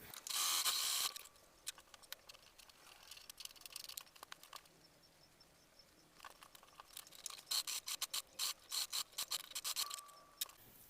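A sewing machine stitching the middle of a fabric pocket on a diaper organizer, quick rattling mechanical bursts of stitching separated by quiet pauses, close and faint.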